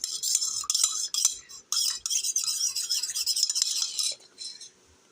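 A spoon stirring lemon juice with salt in a glass gives bright, quick metallic clinks and scrapes in bursts, close and fairly loud, fading to quiet at the end; nobody talks.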